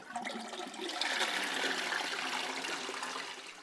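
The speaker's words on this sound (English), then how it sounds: "and we should be good to flush." A single-button toilet fitted with a Fluidmaster Easy Fit Ultra syphon flushes in a close, steady rush of water that swells and holds for several seconds, then begins to ease, with no speech.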